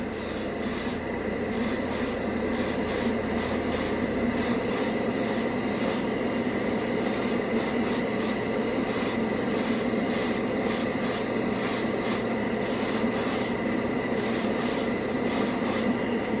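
Airbrush spraying a final coat of Mission Models yellow paint, a steady close hiss broken by rapid rhythmic pulses as the trigger is worked, with a low constant compressor drone beneath.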